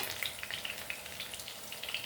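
Bitter gourd fries in a pan with cumin-chili spice, a steady close sizzle with small crackling pops running throughout, no voices.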